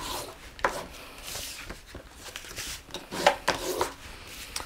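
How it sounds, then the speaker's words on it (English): Paper box creases being folded and burnished with the side of a scoring tool for a custom wedge box, giving soft rubbing and scraping strokes with a few sharper taps, close and fairly quiet, with no talking. "all I'm going to do is fold and burnish all of the creases"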